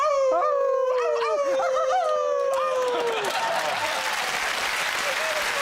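A man imitates a long wavering howl, voice rising and bending, then cheering and clapping from an audience swell in behind it.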